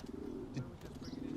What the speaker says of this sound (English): Hey, Dick, move, pigeon.